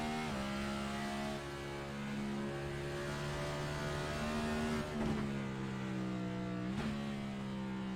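A NASCAR-style race car in iRacing holds third gear around Sonoma Raceway, its engine a steady loud droning whine with small pitch dips and rises at gear changes, continuous and alone.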